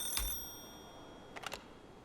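A telephone rings in the video game Silver Pines, two short electronic ring bursts separated by a pause, faint and alone.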